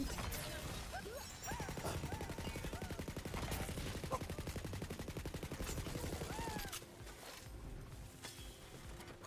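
Rapid, sustained gunfire from a shotgun in the video game Tiny Tina's Wonderlands, a dense run of repeated blasts mixed with game effects, then easing into quieter clatter after several seconds.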